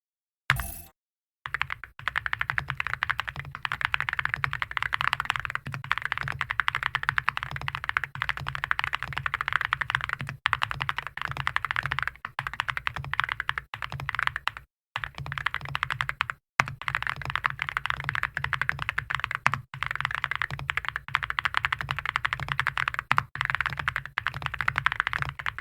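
Rapid, continuous typing on a Cerakey Nada65 ceramic-keycap mechanical keyboard with an ABS body and aluminium-alloy corners, close-up crisp clacky keystrokes in dense bursts broken by a couple of brief pauses.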